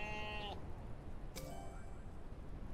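A goat in the video game Airport Renovator bleats twice, each call a short wavering cry, over a quiet, steady background hum.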